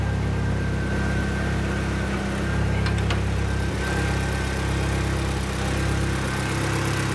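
An AWD Mini Cooper engine, fitted with a crank disk and on basic fuel tuning, idles with a loud, droning exhaust, a steady rumbling hum close by with slight fluctuations and no voices.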